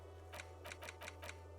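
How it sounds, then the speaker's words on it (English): A Rolodex flips in the video game Disco Elysium with a typing-like clatter: five quick, faint clicks in a loose rhythm over a steady low hum. "Like typing."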